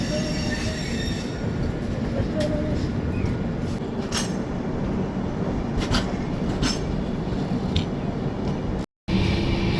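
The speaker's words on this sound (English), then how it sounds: "Oh my god, the train has caught speed" A train rumbles along at speed, a dense low roar with occasional metallic squeals and rattles from the wheels.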